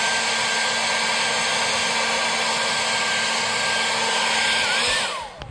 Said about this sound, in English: take my heat gun